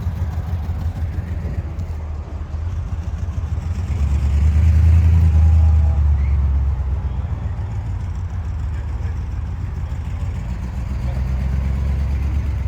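A Ford Thunderbird's engine runs steadily with a low rumble that swells briefly in the middle, then settles back to a continuous idle-like drone.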